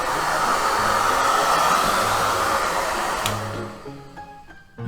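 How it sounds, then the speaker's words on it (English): A hair dryer set on hot blows steadily and loudly over a clay pinch pot, a constant whooshing roar that drops away near the end as it is switched off. "If you want to speed up the drying process, grab a hair dryer."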